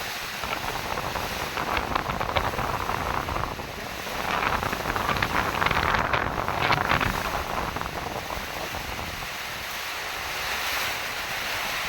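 Strong gusts of wind buffet the microphone at Sabang, Palawan, a rough roaring rush that swells in bursts, with surf-like noise underneath.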